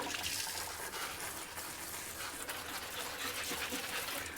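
Water poured steadily to soak a thirsty philodendron Brazil in a terracotta pot, a continuous close splashing and gushing stream with no talking.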